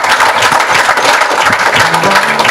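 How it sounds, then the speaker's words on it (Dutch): A crowd at a scholarship award ceremony gives loud, continuous applause, a dense wash of clapping with a faint tonal sound rising near the end. "maak een applaus voor Firm Engineering"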